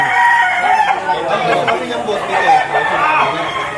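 Quality fighting roosters at a market in Lipa, Batangas crow and cluck in a busy, loud chorus close by, with people chattering in the background.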